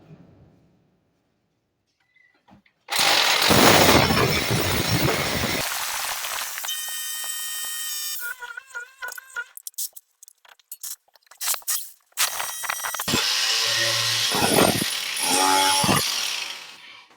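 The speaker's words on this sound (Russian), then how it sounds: "решили все-таки железо выпиливать" A power saw with a cutting disc slices through the iron sheet metal of a fireplace chimney pipe indoors, roaring loudly in long bursts with short pauses and a ringing metallic screech between cuts.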